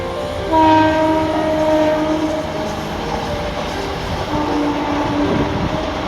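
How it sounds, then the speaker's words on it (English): A small train passes nearby with a loud, steady rumble, and sustained horn-like tones rise and fade above it, with no speech. "There's a train passing by."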